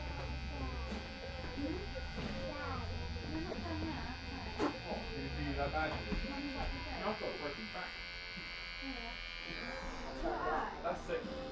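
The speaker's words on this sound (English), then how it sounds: "I like to clear it out with a razor" Electric razor buzzing steadily while clearing hair below a side-part guideline during a barbering cut, a close continuous drone with soft speech-like sounds around it.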